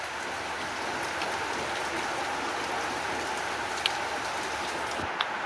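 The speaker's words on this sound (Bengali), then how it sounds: "বাইরে বৃষ্টি হচ্ছে, বর্ষার বৃষ্টি।" Monsoon rain falls outside in rural Bangladesh, a steady even patter on surfaces throughout with a couple of faint drips or knocks, no voices heard.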